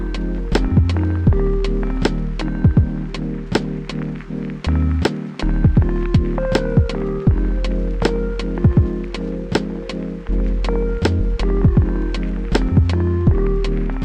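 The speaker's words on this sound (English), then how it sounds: "I just needed to sew them and the fuzzy bags together" A sewing machine stitches letters and fuzzy bags together, with rhythmic mechanical clicks and thumps running in repeated bursts over a steady hum, loud and close.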